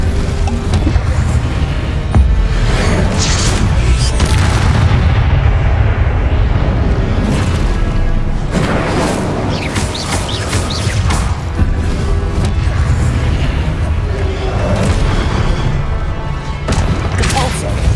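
Repeated fire-spell blasts and booming impacts in a Hogwarts Legacy battle, loud and continuous with crashing bursts layered over game noise, with voices calling out across the fight.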